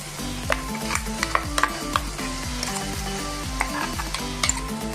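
Ground masala frying with golden brown onions for a Goan fish thali, a steady loud sizzle under rhythmic scraping strokes of a spoon stirring the pan, with occasional metallic clinks, no talking.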